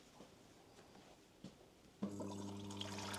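A washing machine drawing water through its inlet valve, a few faint clicks before the flow starts suddenly and then runs as a steady pouring hiss with a humming tone underneath, close and fairly quiet.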